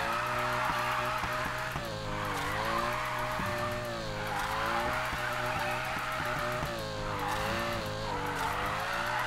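A car drifting in Need for Speed Payback, its tire squeal wavering continuously over a loud engine roar through a long slide, close and unbroken, with no talk.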